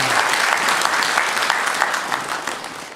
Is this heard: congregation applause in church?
yes